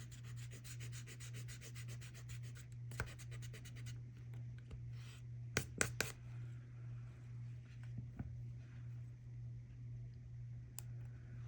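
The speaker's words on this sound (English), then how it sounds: "If you have an eraser, you can erase those grid lines that we made." Eraser rubbing out pencil grid lines on paper: quiet, steady back-and-forth scrubbing strokes with a few sharper scratches, close and faint over a low background hum.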